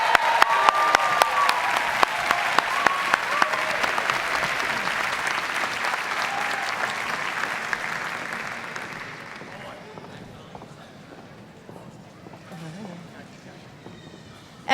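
A crowd at a 2019 university commencement for a school of education bursts into thick, loud applause for the graduates, which holds strong for several seconds and then gradually fades to scattered claps and quiet.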